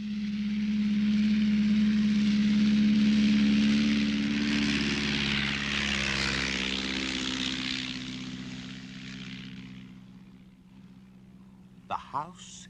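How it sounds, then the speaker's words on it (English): A propeller airplane drones loudly overhead, then slowly fades into the distance, leaving a faint steady hum with a couple of brief knocks near the end. "The aeroplane is a machine for flying."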